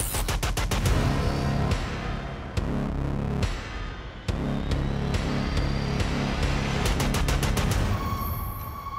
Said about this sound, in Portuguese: imediatamente efetua os disparos e sai correndo a pé